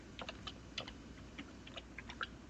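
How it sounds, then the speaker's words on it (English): Quiet, irregular key clicks on a computer keyboard tap out in short bursts over a soft background hum. "Wow, I'm doing typing good today."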